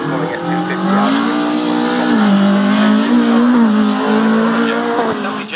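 Honda S2000 rally car racing at a promenade rally event, its engine note loud and close, rising and falling through gear changes with tire squeal, sustained for several seconds; no talk.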